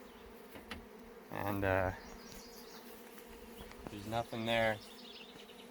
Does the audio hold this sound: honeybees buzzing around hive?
yes